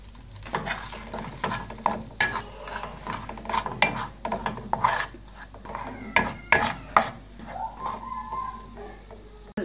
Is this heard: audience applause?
no